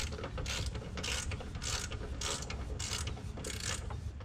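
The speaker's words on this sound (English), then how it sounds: "get these tightened up. As soon as I learn how to work a ratchet." A ratchet tightening hose clamps on a cold air intake for a 6.2 Silverado, loud close bursts of rapid pawl clicking repeating in a steady back-and-forth rhythm for several seconds, with no talking.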